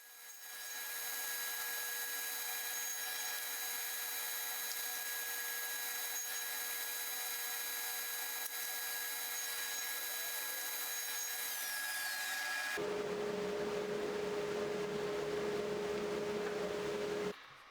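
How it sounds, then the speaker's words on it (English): A power saw blade cuts grooves into wood for a box's back panel, a continuous loud whine that holds steady, then shifts to a lower, rougher tone partway through before stopping abruptly. "While I had this blade installed, I cut the grooves to hold the back panel"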